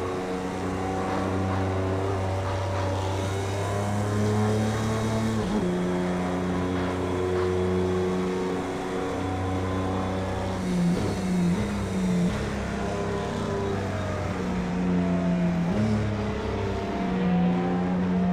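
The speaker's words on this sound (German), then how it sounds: "Dann kannst du mal ein bisschen den Klängen des Dieselmotors hier lauschen." Simulated Audi R18 diesel prototype racing at Le Mans in Project Cars 2, a steady loud engine drone with sustained low tones, pitch shifts from gear changes and accelerating climbs, continuous throughout with no talking.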